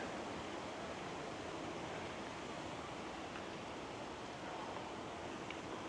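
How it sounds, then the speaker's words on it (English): Running water in Vail, Colorado, a steady, even broadband rush like a nearby creek or fountain flowing continuously and alone, with no talk over it. "back to the sounds of running water and families having a good time"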